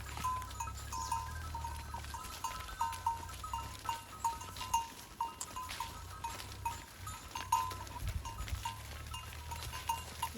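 A herd of ten or so mother goats with kids in jungle above a Nepali goat farm, giving faint, scattered bleats over quiet outdoor ambience with no talking.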